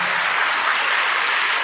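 Sustained, dense clapping from a church congregation, a loud, even wash of many hands striking at once with no break or speech.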